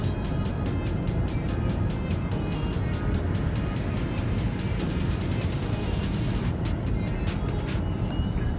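A car cruises along a highway in Oklahoma, a steady broadband road roar and engine drone filling the whole stretch with no letup, heard from inside or close by.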